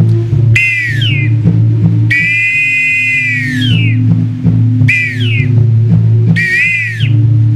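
Three small whistles played together imitate the cry of an eagle flute, giving four loud, shrill, wavering calls with gliding pitch, the longest near the middle, over a steady droning musical background.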